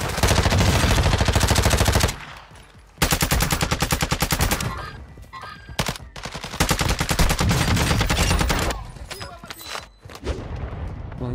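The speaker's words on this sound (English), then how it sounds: "The MP5 is still the most used SMG" Rapid MP5 submachine gun fire in the shooter game Warzone 2, loud and dense automatic bursts dominating the clip with a brief lull near two seconds and shorter breaks later.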